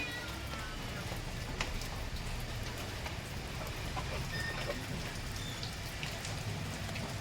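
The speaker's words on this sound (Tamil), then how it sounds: "மழை பாருங்க" Steady rain pours down at an outdoor Prakasam temple gathering during a thavil drum-making ceremony, a dense, even hiss of drops on surfaces persisting throughout without pause.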